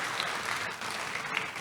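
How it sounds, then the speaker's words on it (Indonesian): A Sunday church congregation claps for Jesus, a steady even patter of many hands at moderate volume, sustained without a break. "kasih tepuk tangan buat Tuhan Yesus"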